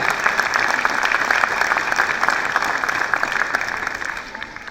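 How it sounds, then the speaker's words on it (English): A large audience claps loudly for graduates at a British University in Dubai ceremony, a dense, sustained wash of applause that tapers off at the end. "Very big clap."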